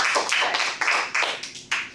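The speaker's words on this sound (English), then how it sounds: "Let's give him a round of applause right now" A handful of scattered hand claps at a Toastmasters club meeting, sharp and fairly close, arriving in an uneven run of about seven bursts with no talking.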